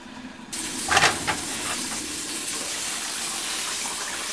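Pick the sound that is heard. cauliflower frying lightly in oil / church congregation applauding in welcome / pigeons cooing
cauliflower frying lightly in oil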